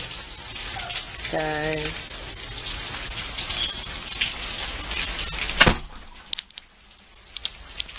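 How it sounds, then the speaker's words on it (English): Steady rain patters and hisses outdoors on a gray Florida day while someone speaks briefly. The wash of rain cuts off abruptly near the end as a car door shuts, leaving a quieter interior with a few clicks. "It's raining today"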